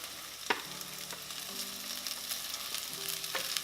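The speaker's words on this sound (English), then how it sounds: "Got some rice getting ready to go in. I'm sure I'm gonna make a huge mess dumping it in" Rice tipped into a hot pan for loco moco, frying and sizzling steadily throughout with a few sharp stirring clatters and scrapes; no voices.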